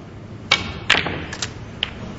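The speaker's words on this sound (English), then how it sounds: "This is a very thin snick now." Snooker balls in a professional UK Championship quarter-final: a few faint, sharp clicks of thin cue-ball contact spread over two seconds, each one brief and light against quiet arena hush.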